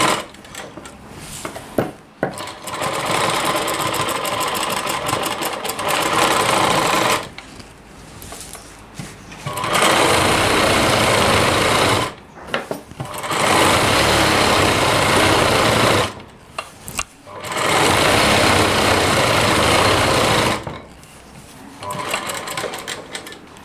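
A sewing machine stitches the lining of a heavy-work Rajputi lehenga in several long, loud runs separated by short pauses, with faint talk between the bursts.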